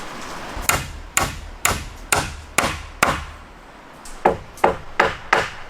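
Repeated sharp hammer blows strike timber while a sturdy railing is built in a forest camp, about ten hits in two quick runs with a short pause between, loud and close with no voices.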